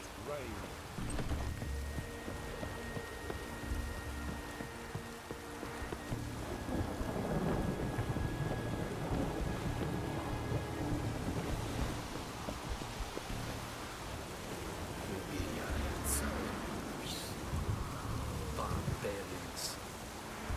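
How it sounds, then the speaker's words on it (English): In The Witcher 3: Wild Hunt, steady, heavy rain pours throughout while thunder rolls and rumbles, swelling louder in the middle and near the end. "heroes have brought us rain"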